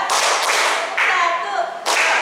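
Several sharp hand claps in a group clapping game at a school workshop session, loud and spaced in a loose rhythm, with faint voices underneath.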